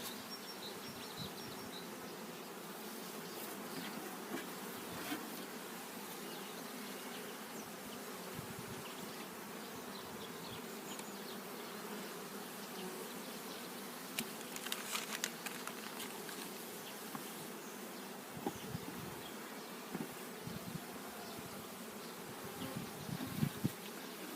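Steady, dense buzzing of many honeybees close by, a continuous drone with occasional louder individual bees passing near.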